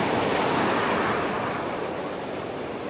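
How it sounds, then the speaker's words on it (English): Ocean surf washes steadily onto a beach on a warm, sunny winter day, a continuous broad roar that is loud and close with some wind noise and no talking. "The sound of the waves."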